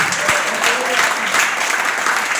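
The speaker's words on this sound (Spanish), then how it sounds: "Si usted le va a aplaudir, aplaudirle con ganas" A church congregation applauds during a sermon, a dense, steady wash of many hands clapping at once, with a few voices faintly audible beneath it.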